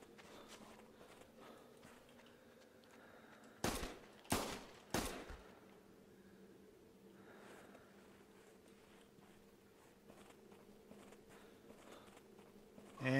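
Three sharp rifle shots fired in quick succession at a running hare in the hunting game theHunter Classic, loud and close, over a quiet outdoor ambience with faint footsteps.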